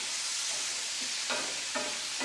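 Shrimp stirred in a hot pan for chili shrimp with snow peas, a soft continuous sizzle with two brief scraping stirs near the end, quiet and close.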